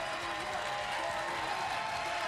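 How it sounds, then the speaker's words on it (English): An audience at the CEOTAKU 2023 Guilty Gear Strive top 8 fighting game tournament claps and cheers in a dense, steady wash of applause that runs unbroken from start to finish. "a huge round of applause for CHERYO"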